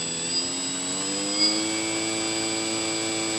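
A small electric motor for an ASH26 composite sailplane spins at quarter throttle on a bench, giving a steady, even whine with layered tonal harmonics and no change in pitch.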